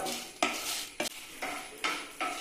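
Whole spices dry roasting in a pan for Chettinad-style potato dry roast, with repeated scraping and stirring strokes of a utensil against the metal at a steady rhythm, close and fairly loud, no voices.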